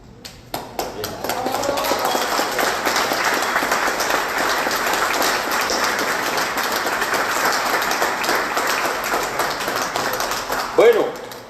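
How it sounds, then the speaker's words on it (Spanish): An audience at a history lecture on the origin of San Luis Río Colorado gives sustained applause for Professor Hermes Flores Navarro, dense clapping building quickly and holding steady for several seconds before a voice speaks at the end. "el aplauso es para el profesor Hermes"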